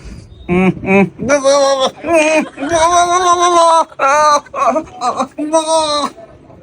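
A man imitates a male goat, letting out a run of loud, nasal, wavering bleats in quick succession, close by with short pauses between calls.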